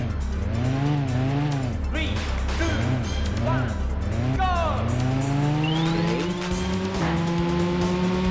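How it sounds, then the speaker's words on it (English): Racing-game car drifting on a mountain touge course in Touge Max 2 on the PlayStation, with a loud, steady engine note rising and falling through revs, tyre squeal, and a few sharp exhaust pops near the end. "Oh, we get some backfire though."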